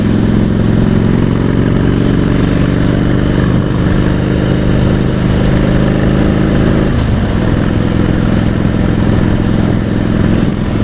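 A Harley-Davidson Softail Deluxe motorcycle engine rumbles loud and close while riding, a steady low throbbing drone with a brief dip in tone partway through, with wind and road noise and no voices.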